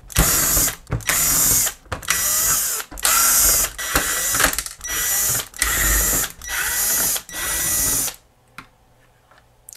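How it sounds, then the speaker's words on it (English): A power driver backs screws out of a Sonos Playbar soundbar: eight loud, close whirring bursts, each about a second long with short pauses between, then quiet handling. "Okay, now that that is done, it's just a matter of removing these screws."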